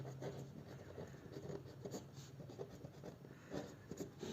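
Hand writing while teaching a class-10 science lesson on Ohm's law, faint continuous scratchy strokes on a surface with small rhythmic bursts, quiet and close.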